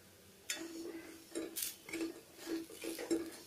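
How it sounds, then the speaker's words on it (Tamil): Chilli powder is stirred into brinjal gravy in a pan with a metal spoon, giving soft scrapes and light clinks at an uneven pace, quiet and close. "இந்த மிளகாத்தூளோட நல்லா ராஸ்மெல் போகிற வரைக்கும் நம்ம இதை நல்லா மிக்ஸ் பண்ணிக்கலாம்"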